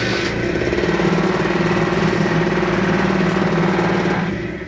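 An old Piaggio Quartz scooter engine, started near freezing after sitting overnight, catches abruptly and runs at a steady, rapid, buzzing idle, close and loud, then fades slightly at the end.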